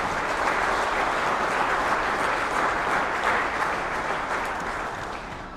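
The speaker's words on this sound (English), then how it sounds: "let's give them all a round of applause" A large crowd at an economic development appreciation awards event claps in sustained, dense applause that holds strong for several seconds before tapering slightly at the end.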